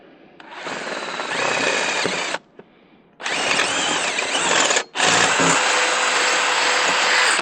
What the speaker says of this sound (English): we'll make that hole the size of the pin. Now we're going to go with the 1/4-inch bit.